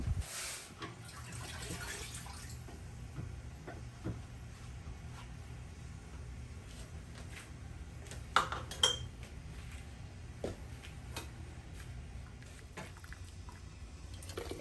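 Sumac berry jelly ladled into jars, with soft clinks of a ladle and glass and some faint liquid pouring at a low level, plus a couple of sharper clinks near the middle.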